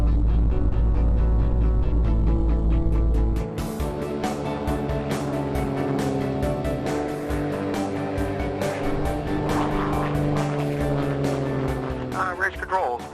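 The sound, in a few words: Nemesis NXT sport class race plane taking off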